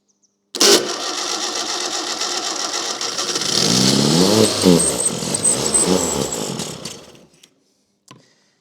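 A Fiat 600 engine cranks and tries to start, a loud continuous mechanical churning that lasts about six and a half seconds, surges in the middle, then cuts off, followed by a brief knock.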